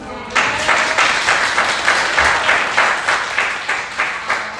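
Audience applause breaks out after a brief quiet start, a loud, full round of clapping with a rhythmic pulse running through it, lasting several seconds at a Woman's Day event.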